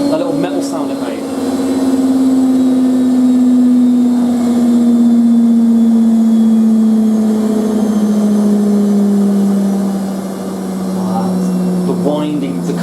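A Hotpoint WM63 Aquarius 1100 washing machine motor hums steadily as it winds down, its tone slowly sliding lower over several seconds while the drum coasts, with a little background noise and a brief voice near the end.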